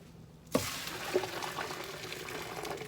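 Pasta water pours and splashes steadily through a strainer into a sink, a broad rushing wash starting abruptly after a brief quiet moment and continuing to the end.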